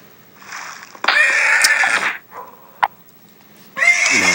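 A horse whinnies in the SurvivalCraft video game, with several loud, drawn-out neighs and a short snort between them, close and clear with no talk over them.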